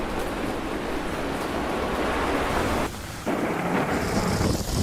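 Thunder rolling during a severe thunderstorm with rising wind, a loud continuous rumbling roar mixed with heavy rain-like hiss, dipping briefly before surging back.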